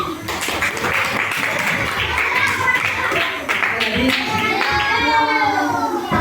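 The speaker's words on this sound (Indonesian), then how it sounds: "Coba tepuk tangan dong" A classroom of children clapping together during an Islamic studies lesson on honouring parents, a sustained ragged burst of applause lasting several seconds with young voices chattering and calling out over it.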